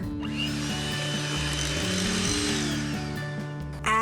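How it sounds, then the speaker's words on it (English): Brownie batter mixed with chocolate syrup is beaten with a motorized whisk, making a continuous, close, droning electric whir with slight shifts in pitch. "Now I'm going to give this all a good whisk."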